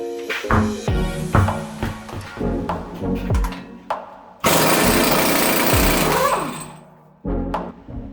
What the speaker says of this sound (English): zip the axle nut off